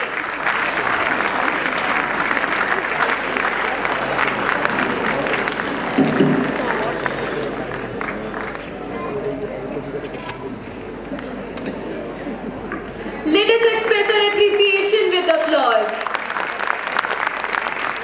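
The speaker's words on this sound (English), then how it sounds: "Let's greet them with a hearty applause as they come on the stage." A school annual day audience applauds award recipients coming on stage, a sustained crowd clapping with a murmur of voices, loud and continuous, and a voice speaks over the clapping near the end.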